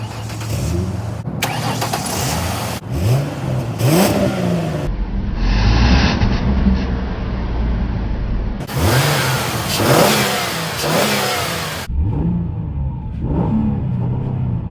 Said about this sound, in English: Aftermarket exhaust just rumbles.